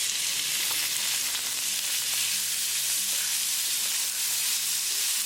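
Onion and garlic frying in a pan for chicken drumstick curry, a steady dense sizzle and crackle, loud and close with no talking.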